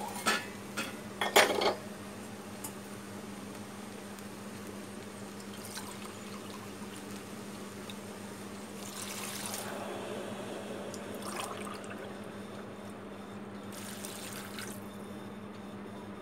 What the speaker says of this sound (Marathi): मी पाणी टाकते.